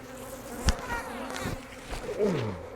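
Honey bees buzz around a beekeeping honey harvest, several close insects droning and swooping past with short rising and falling whines, no voices.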